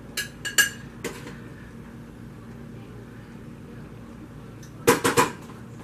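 Pasta being served onto a plate with metal utensils for a Swedish meatballs dish, a few sharp clinks near the start and a quick cluster of louder scrapes and taps near the end, with a quiet kitchen in between.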